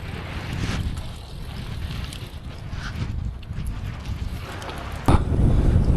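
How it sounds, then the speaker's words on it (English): Strong wind funnels through a valley and a tunnel in a remote part of China, a constant rushing roar buffeting the microphone with a heavy gust near the end, loud and close with no talk. "The entire wind gets channeled through the valley here and through the tunnel."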